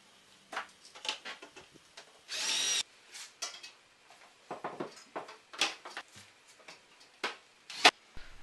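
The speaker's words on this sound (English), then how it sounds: "Start off by screwing a small piece of stud onto the existing horizontal panel." A power drill drives screws through a small piece of stud into a horizontal panel, with short repeated bursts and one longer whir amid clicks and taps, fairly close.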